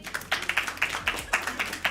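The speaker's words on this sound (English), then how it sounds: "Give yourself a round of applause." A small group of volunteers at an Easter park meet claps together, the sharp claps bunched into short irregular bursts, fairly faint and heard from close by, with no talking over them.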